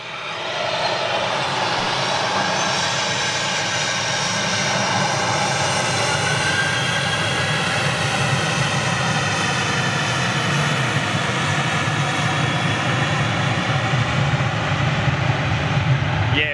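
Qatar Airways airliner lined up on the northern runway, its jet engines giving a steady, loud, continuous roar with a whining tone that holds for the whole stretch, no voices.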